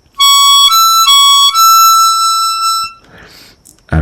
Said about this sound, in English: And then 8 blow, 9 blow,